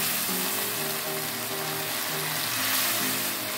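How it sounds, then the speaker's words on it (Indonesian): Chicken feet cooking in a pan of spicy sauce, giving a steady, fairly loud sizzle and bubbling with a low rumble underneath, continuous and without talk. "setelah bercampur masukkan cekernya ya Bunda, aduk"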